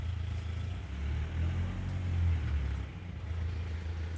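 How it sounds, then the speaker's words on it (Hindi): Vehicle noise from traffic outside rumbles low and steady, fairly faint and muffled, swelling slightly in the middle with no talk. "अभी गाड़ी का आवाज़ है ना"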